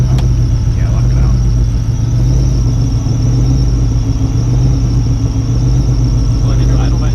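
A Ford F150 prerunner truck's engine idles roughly and near stalling, a loud, close, continuous rumble with a steady low hum throughout.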